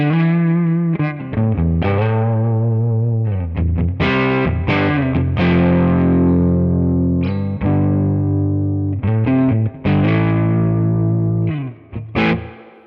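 An electric guitar plays through a Tone King preamp pedal, preamp section only, with an IR on a Quad Cortex, giving a driven, slightly distorted tone with ringing chords and quick single-note phrases, close and unaccompanied with no talk.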